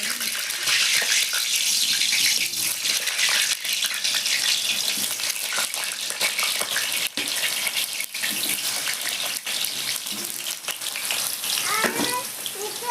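Potatoes frying in hot mustard oil in a kadai give a dense, steady sizzle and crackle that runs continuously at close range, with faint kitchen clatter near the end.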